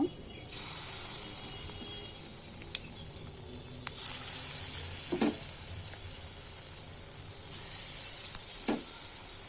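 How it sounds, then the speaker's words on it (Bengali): Banana batter drops into hot oil and sizzles steadily, with a few sharp spatters and soft clinks from a utensil over the continuous frying hiss. "এখন আমি এটাকে তেল দিয়ে ভেজে নেব তেলটা দিয়ে দিছি তেলটা আমার গরম হয়েছে"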